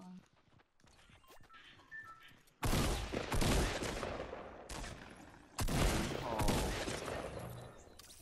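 Rapid automatic gunfire in the video game Fortnite crackles in two loud bursts, one midway and one near the end, with quieter game noise between them.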